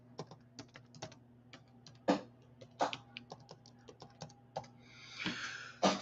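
Someone types on a computer keyboard: a close, uneven run of crisp key clicks with a few heavier keystrokes and a rapid flurry near the end.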